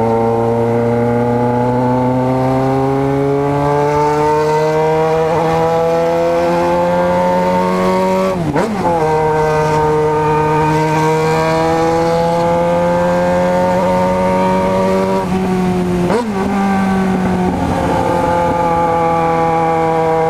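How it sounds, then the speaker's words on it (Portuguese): Motorcycle engines roar loudly with steady harmonic drone and rising revs, interrupted by brief gear-shift dips around the middle and near the end; no talk. "Roncos de moto mais bonitos"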